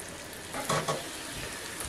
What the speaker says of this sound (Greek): Τα αφήνουμε για λίγο να τηγανιστούν.